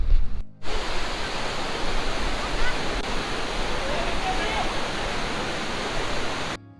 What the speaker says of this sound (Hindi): और ये है सरस्वती नदी